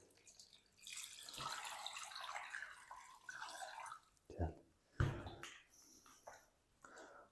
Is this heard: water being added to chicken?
yes